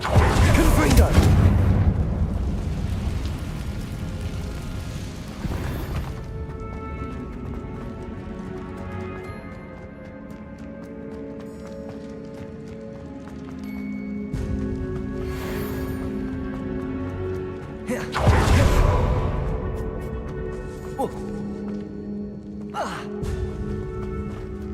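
A Confringo fire spell is cast in a Harry Potter video game, with a loud explosive blast at the start and another about eighteen seconds later, separated by quieter ambient game sound and music.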